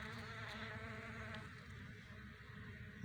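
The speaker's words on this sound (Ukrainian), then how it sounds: "Що тут роблять бджоли?" A faint, steady insect buzz hums throughout, a soft droning of bees close by in a quiet setting.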